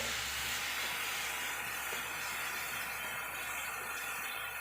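Small bananas cooking in ghee in a pan give off a steady, soft hiss and sizzle, even and unbroken throughout, with no voices.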